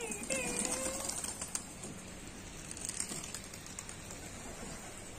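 A flurry of pigeon wing flaps and scuffling near the start, then a soft rustling background, with a faint coo and low voices underneath, as newly released pigeons are set to fight at a rooftop pigeon contest.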